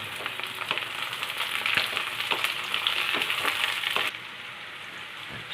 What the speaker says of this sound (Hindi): अब इसमें हम शिमला मिर्च डाल देंगे।